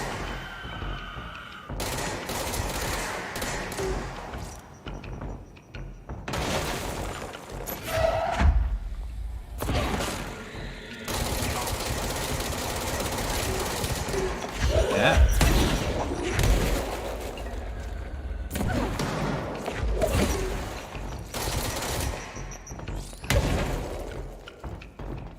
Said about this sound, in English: Stop exploding beneath me.